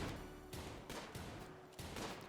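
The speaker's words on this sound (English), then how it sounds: "You can hear the gunfire there." Gunfire in the RimWorld video game comes as several sharp, loud bursts of shots at irregular intervals over a constant background hum, with no voices.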